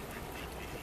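Ducks quack briefly amid a busy, noisy outdoor background in the village of Bourton-on-the-Water, England.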